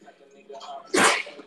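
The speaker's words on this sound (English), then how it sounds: "I'm about to have a sneeze attack." A single loud, sharp sneeze bursts out close up after a brief buildup of breathy sounds, from a young woman suffering allergies indoors.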